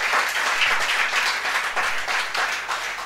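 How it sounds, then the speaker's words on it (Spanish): Church congregation applauding a visitor named David, a steady, dense wash of many hands clapping together throughout, loud and close, with no pauses. "Le damos un aplauso a David por su presencia"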